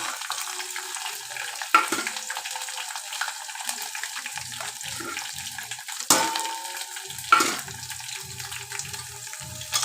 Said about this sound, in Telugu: ఎండిమిర్చి కూడా ఎర్రగా ఫ్రై అయిపోవాలి